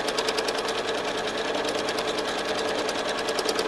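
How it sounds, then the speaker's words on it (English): A sewing machine stitches a free-motion swirl on a quilt with a steady, rapid needle chatter, close and continuous throughout with no pauses. "What I'm going to do is stitch it upside down."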